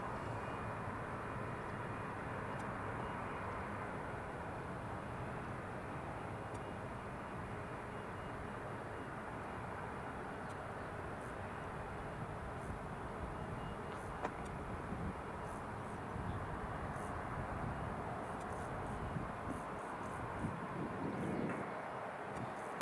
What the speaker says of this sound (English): It's EasyJet climbing away.